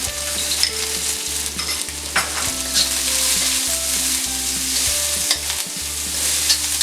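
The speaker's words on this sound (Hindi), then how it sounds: "प्याज को हम 1 मिनट सेक लेंगे।" Onions sautéing in a pan with green chillies for chicken Manchurian, a loud steady sizzle with rhythmic stirring and scraping strokes close by, no voices.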